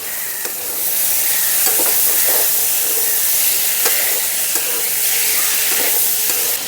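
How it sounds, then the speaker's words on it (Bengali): Boiled chickpeas frying with spices in oil in a pan, a loud continuous hissing sizzle with occasional stirring scrapes, close up and steady throughout, no one speaking. "ছোলাটাকে মশলার সঙ্গে ভালো করে কষিয়ে নেব।"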